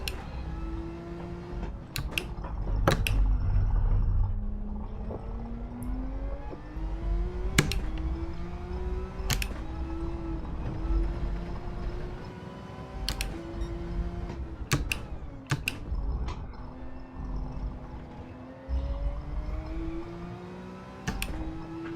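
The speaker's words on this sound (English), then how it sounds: "I can hear the car behind right on top of me now." Racing car engines in a Gran Turismo 7 Gr3/Gr4 race at Interlagos, with a rival car close behind: steady high revving that rises and falls through gear changes, punctuated by sharp clicks and ticks, with no talking.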